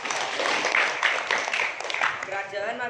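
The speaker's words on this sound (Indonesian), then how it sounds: "Kasih tepuk tangan dulu." School students in a classroom give a short burst of dense, steady clapping, with voices mixed in.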